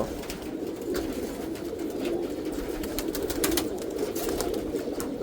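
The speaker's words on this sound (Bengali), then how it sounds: "আজকে অনেক দিন পরে নর্মাদি কবুতরগুলো একসাথে ছাড়লাম" Domestic pigeons let out together after a long time coo steadily in a low, overlapping murmur, with occasional sharper clicks and rustles, moderately close and with no voices.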